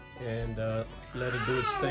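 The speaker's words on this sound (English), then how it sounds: "excuse my baby right here. He's making all sorts of noises." A baby vocalizes with whiny, cry-like sounds in two bursts, close and fairly loud, while an adult talks over it.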